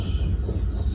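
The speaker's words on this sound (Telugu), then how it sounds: "ప్లాట్ఫామ్ నెంబర్ 3కి ఒక ట్రైన్ అయితే వస్తుంది" A Krishna Express train rolls into platform 3 at a station near Tenali Junction, a loud, steady low rumble of wheels and carriages heard close up for a moment.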